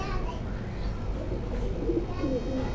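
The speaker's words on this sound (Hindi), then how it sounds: "ये भी टैडी सनफ का कबूतर है" Soft cooing of a Teddy-type pigeon on a rooftop pigeon loft in Karachi, low and close, with faint background chatter and outdoor noise throughout.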